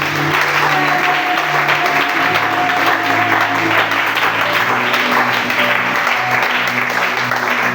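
A church congregation applauds for the king of kings during a sermon, dense sustained clapping with some crowd noise and a sung or held tone beneath, steady and loud throughout.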